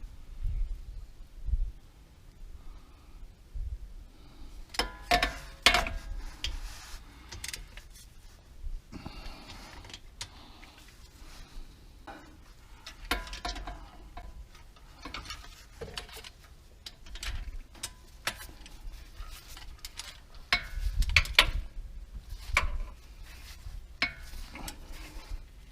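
A torque wrench set to 30 foot-pounds ratchets on the differential cover bolts of a Dana 30 axle, giving scattered close clicks and metallic clatter with pauses between bursts.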